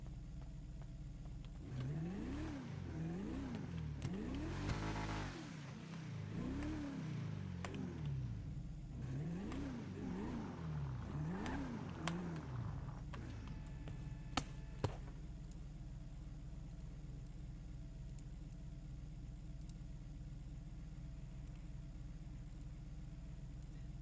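A car engine is started and revved, rising and falling through several bursts of acceleration as it pulls away, then fades to a low steady idle hum with a couple of faint clicks.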